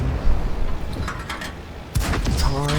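Tank cannon firing at a Panzer III in World of Tanks, a sharp boom arriving midway over a steady rumbling engine and mechanical clatter.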